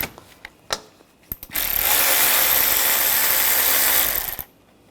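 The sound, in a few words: ratchet with 13mm socket removing a nut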